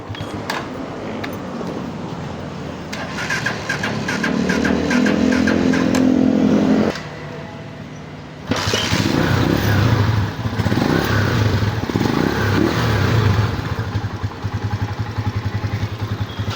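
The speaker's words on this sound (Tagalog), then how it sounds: "napakatahimik na ng makina" A motorcycle engine runs after a tappet tune-up, idling close by with a steady even hum, briefly dropping quieter midway before resuming a smooth, regular putter with no voices.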